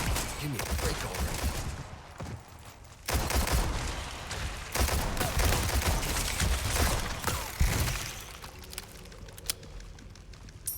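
Handgun fire in Resident Evil 4 Remake comes in dense bursts of loud shots over a busy game soundscape, several volleys packed close together across the stretch, with a voice talking over parts of it.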